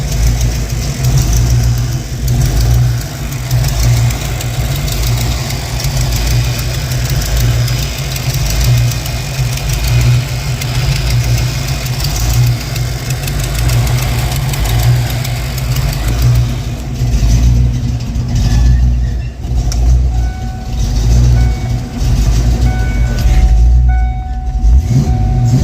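A 1993 Ford Mustang Summer Edition with fuel pump and relay problems runs steadily just after refuelling, its engine idling with a loud, continuous low rumble and slight unevenness throughout, with no talking.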